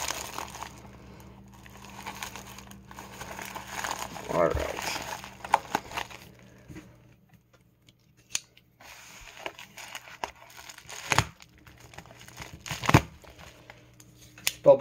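A plastic bubble mailer package is torn and crinkled open close up, with bursts of crackling and ripping separated by pauses, while a person talks over parts of it.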